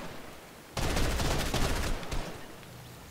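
Rapid bursts of gunfire erupt in a Fortnite duos match after a quiet moment, loud and sustained with sharp cracks layered over one another, no talking.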